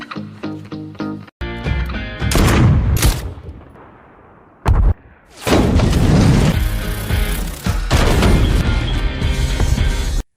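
A film scene erupts in a massive explosion after gunshots, with sharp bursts, a thunderous boom, crashing debris and a loud sustained roar, set against dramatic movie sound.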